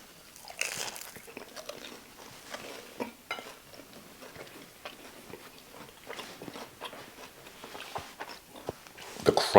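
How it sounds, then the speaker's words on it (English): Someone bites and chews a crunchy grilled cheese sandwich at a meal of southern fried ribs and sides. Several sharp, close crunches come in irregular bursts, and a loud crunch lands near the end. "The crunch on that grilled cheese"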